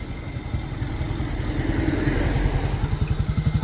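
A 1943 BSA WM20 wartime motorcycle rides past close by, its single-cylinder engine giving a steady, rising thump that grows louder toward the end.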